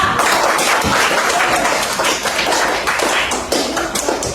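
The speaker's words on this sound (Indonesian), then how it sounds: "Tepuk tangan dulu untuk kelompok 2." A classroom applauds a presenting student group with dense, loud clapping. The clapping stays close and sustained throughout, with a few sharper taps.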